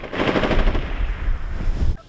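Machine gun fire on the front line in Ukraine, with dense continuous bursts of automatic gunfire rattling loudly for about two seconds, close and harsh, with no speech.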